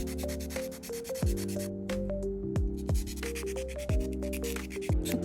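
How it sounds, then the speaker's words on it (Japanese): A sponge file is worked across fingernails in short, repeated rubbing strokes that give a soft, scratchy rhythm, heard close but partly under background music. "スポンジファイルを使って削ります。"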